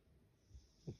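A sleeping cat snores softly, two faint, close breaths, the second a stronger snorting inhale, in an otherwise quiet room.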